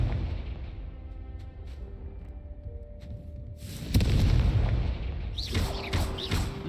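A Confringo spell blast in Hogwarts Legacy erupts as a sudden loud boom over ambient game music and hum, followed by a crackling burst of debris and sparks that lingers to the end.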